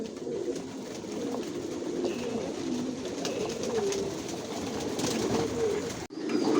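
Racer pigeons coo continuously inside a loft, with soft overlapping throaty calls forming a steady murmur close by, briefly cut near the end.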